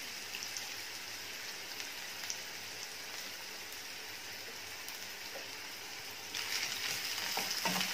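Chopped onion softening in oil for Maharashtrian fodnicha bhat gives a steady broadband sizzle that swells louder near the end, with no voices over it.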